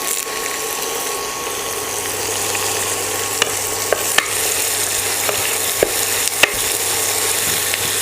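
Onions and curry leaves fry in a covered pan, a steady close sizzle with a few sharp clicks and taps from the pan and lid, no voices.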